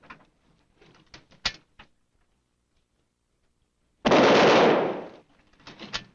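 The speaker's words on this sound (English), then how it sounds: "They're going to test the gun." A machine gun being test-fired in a 1965 television episode lets off one loud burst of about a second after quiet mechanical clicks and knocks, with more faint clatter following.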